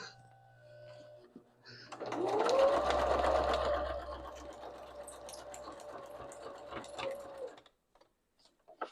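A sewing machine stitches through paper scraps, starting with a few clicks and then whirring at a steady run for several seconds before stopping, close and fairly quiet.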